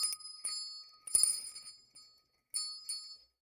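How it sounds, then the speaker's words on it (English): A small desk bell is struck several times in a quiet room, each bright metallic ding ringing out with a shimmering decay; the strikes come in two loose clusters with a short pause between. "I will ring the bell in just a moment"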